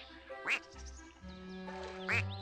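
A quackberry piñata quacks in Viva Piñata beside a pond. Two distinct nasal quacks a couple of seconds apart sound over a soft, steady game music bed.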